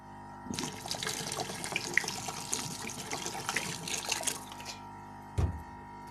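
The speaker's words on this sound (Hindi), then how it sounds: "और साथ ही इसमें जो है वो पानी ऐड करेंगे।" Water pours steadily into a pot of peas pulao seasoned with salt, a continuous splashing, trickling stream lasting several seconds before stopping, followed by a brief clunk near the end.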